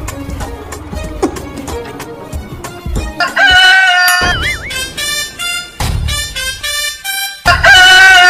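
A rooster sound effect crows loud and close, with a long wavering cock-a-doodle-doo and several repeated crows over a busy comedy music backdrop.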